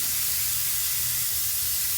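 Ribeye steaks sizzle on a grill in a steady, close hiss that holds evenly for about two seconds, with a low rumble from the grill beneath and no voices.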